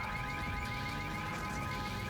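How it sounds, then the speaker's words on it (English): A car horn in a video game blares continuously and loudly with a steady, unbroken tone from start to finish. "Oh, hey, okay, stop honking."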